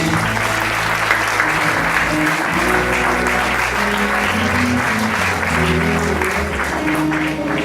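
A church congregation gives a deacon another round of applause, sustained loud clapping from many hands over a held musical drone, constant from start to finish.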